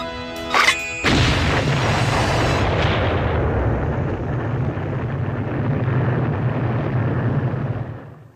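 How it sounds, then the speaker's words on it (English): Nuclear bomb explosion in a TV comedy scene: a brief sharp burst, then a massive rumbling roar that swells and slowly decays over several seconds, alone without talk. "takes place 5 years before that nuclear explosion"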